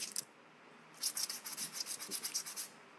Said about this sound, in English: I'm gonna do a little extra sanding.